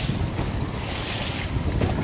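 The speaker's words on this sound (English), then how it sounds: "sorry for the wind background noise" Strong wind buffets the microphone on a fishing boat trolling at sea off Hillsboro Inlet. Loud, continuous rumbling gusts mix with the wash of waves, and no voices are heard.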